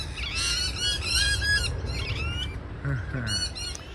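Shrill, raspy squawks from several lorikeets in a tree in Australia, in quick bursts, fairly close, over a steady background hiss, with a lower call near the end.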